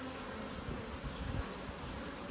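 A dense, steady buzzing of many honeybees on a hive frame fills the air, close and continuous, with small swells in the hum and no voices.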